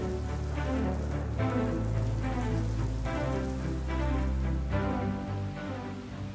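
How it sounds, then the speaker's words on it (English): Steady rain falls over a wide area, a dense, even hiss of drops on surfaces with soft swells in intensity, heard alone with no voices. "Rain, the source of Earth's fresh water and essential to life."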